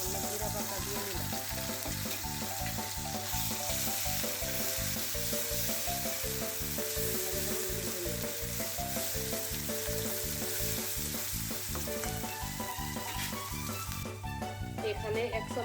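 Fried onions with garlic and cumin paste sizzle in a pan, a constant hissing fry that runs the whole time beneath rhythmic background music.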